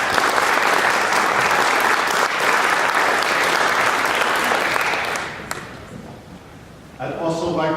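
Sustained audience applause for a speaker's great-grandchildren at a Jewish Publication Society event, loud and dense for about five seconds before fading into quiet with a voice resuming.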